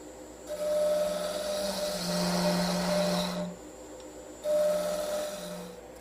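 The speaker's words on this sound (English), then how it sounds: "Here I've switched to my skew chisel, which will provide a smooth finish on the taper." Skew chisel cutting a smooth taper on spinning wood on a lathe: a steady whirring hum with rising scraping, shaving passes that swell, fade to a quieter gap, then resume, heard close and without talking.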